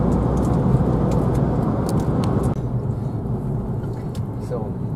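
A car on a road in Thailand gives a steady, loud engine and tire rumble that drops in level midway as it passes. A voice speaks faintly at times.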